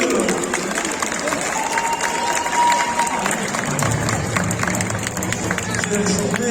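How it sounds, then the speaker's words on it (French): A crowd at a French outdoor event applauds and cheers, dense continuous clapping mixed with hubbub and shouting voices, loud and close, with a whistle-like tone rising briefly in the middle. "Attendez un applaudissement pour Luc."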